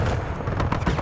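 Gunfire in a video game, a few sharp shots cracking over a dense, noisy mix of background game sound, close and loud across about a second.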